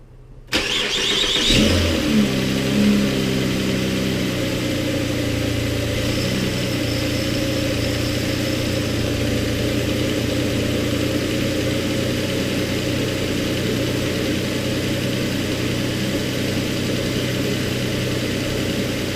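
A Ford Fusion engine with a cold air intake cranks and catches, then settles into a steady, loud idle that hums on evenly for a long stretch.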